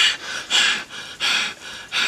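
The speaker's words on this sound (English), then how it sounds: "panting." A person pants in rhythmic, breathy bursts, four heavy exhalations at a steady pace, close and fairly loud with no talking.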